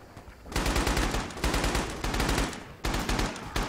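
Enemy gunfire in the WWII shooter Red Orchestra 2 on Omaha Beach: loud bursts of automatic rifle and machine gun fire crack in rapid volleys, separated by short pauses, with no talk.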